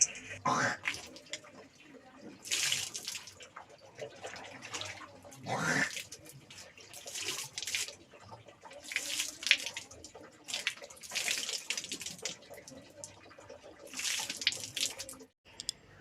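Tap water runs and splashes as someone washes their face at a sink, coming in repeated loud bursts of gushing and splashing separated by quieter pauses, with a voice talking faintly in between.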